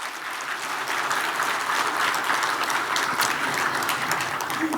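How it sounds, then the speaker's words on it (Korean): Sustained audience applause for an orchestra at a formal award ceremony: a thick, even wash of many hands clapping that stays loud and unbroken throughout. "다시 한번 수고해주신 원스체인버 오케스트라한테 큰 박수 보내주시죠."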